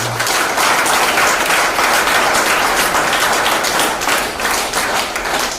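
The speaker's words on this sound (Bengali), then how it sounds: "আপনারা আপনাদের জন্য একটা জোরসে হাততালি দাও" An indoor audience at a motivational success-story gathering bursts into loud, dense clapping that rolls on without a break for several seconds, close and crowded, with no voices rising above it.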